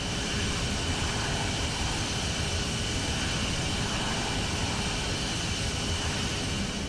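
Simulated Embraer E195 airliner climbing toward cruise altitude in X-Plane 11, a steady broadband jet roar heard from inside the aircraft, constant and even with no voices.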